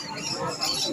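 Caged pet birds at a busy bird market in Shrirampur chirp and squeak amid a dense, steady wash of crowd noise and overlapping calls.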